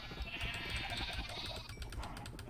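Sheep bleat in Minecraft, several in a group, over a dense, steady bed of game sound and music, moderately quiet overall.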